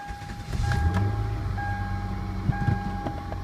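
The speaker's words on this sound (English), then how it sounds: "So what we'll do now is we'll do a cold start." A 1999 Ford SVT Contour engine starts cold after sitting for a week: a low rumble rises and settles into a steady idle, with a thin continuous chime tone running throughout.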